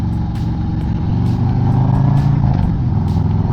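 A 2024 Harley-Davidson Road Glide fitted with Tab performance mufflers and zombie baffles rumbles at idle, a deep, steady, throaty burble close by with a slight swell midway.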